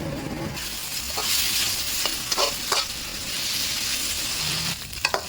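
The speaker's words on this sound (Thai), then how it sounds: "ขั้นตอนแรกเราจะมาลวนหมูสามชั้นของ เราก่อนนะครับ โดยที่เราจะเติมน้ำเปล่าลงไป แล้วผัดไปเรื่อยๆ" Pork belly stir-fried with water in a pan, a continuous close sizzle and bubbling with repeated scraping strokes of the spatula and a few clinks toward the end, no speech.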